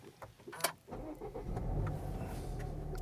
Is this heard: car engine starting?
yes